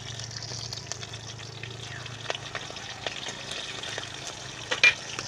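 Green chillies and five-spice sizzling in hot oil in a pan, a steady soft frying hiss with small pops and crackles.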